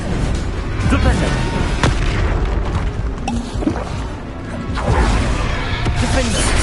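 Heavy booming spell blasts from Confringo and Bombarda in Hogwarts Legacy, repeated thuds and crashes rolling through a busy battle din while a voice calls out spell names.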